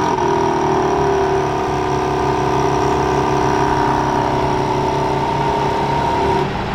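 A 2024 BMW M4 Competition idles steadily after a remote start, its quad-tip dual exhaust giving a loud, even, close drone that holds without revving before cutting off at the end.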